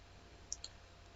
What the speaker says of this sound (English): double click on storage option.